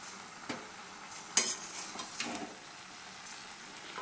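Two kinds of leafy greens and kalai lentils are stirred together in a cooking pan, with faint sizzling, a few soft scrapes and a sharp utensil clink, all fairly quiet.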